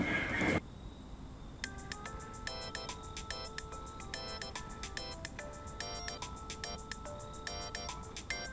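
Mobile phone ringtone for an incoming call, a bright repeating electronic melody of quick beeping tones that starts after a short burst of noise and keeps looping steadily at moderate volume, with no talking over it.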